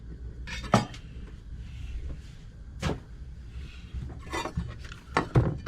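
Kitchen knife chopping the end off a fresh leek on a board aboard a narrowboat, a few sharp knocks and clicks spread across a quiet background with faint handling sounds, no talk.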